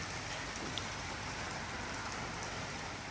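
Heavy, sudden rain pouring down in the Queensland countryside, a dense, steady hiss of drops drumming on surfaces, constant and enveloping with no voices.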